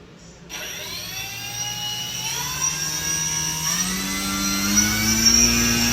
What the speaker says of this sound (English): apparently the motor was so powerful that it was blowing Lego off my table